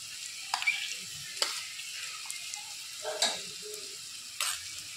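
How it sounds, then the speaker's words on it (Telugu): Ginger garlic paste frying with onions in hot oil, a steady soft sizzle with occasional sharper crackles and spoon scrapes, moderately close and without talk. "అది కూడా బాగా అల్లం వెల్లుల్లి పేస్ట్ బాగా వేగాలి"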